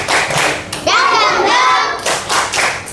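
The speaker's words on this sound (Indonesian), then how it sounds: "tepuk semangat." A school class of children claps together in a rhythmic spirit clap, bursts of hand claps breaking around a stretch of chanted children's voices, close and loud in a classroom.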